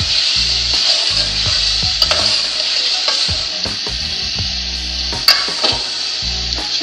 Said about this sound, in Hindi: अब इसमें आलू डाल रहे हैं